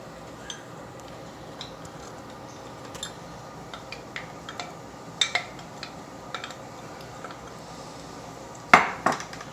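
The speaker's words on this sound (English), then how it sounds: "give that a little stir till all that cheese is nice and melted" Cheddar and Parmesan are stirred into potato soup in a pot, with a spoon giving faint, scattered ticks and clinks against the metal. A louder clatter comes near the end over a quiet background.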